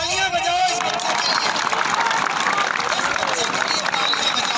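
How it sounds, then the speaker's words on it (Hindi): A classroom of students claps and cheers for a fellow student, steady dense applause held at a strong level throughout, with voices mixed into the noise. "बहुत तालियां बजाओ इस बच्चे के"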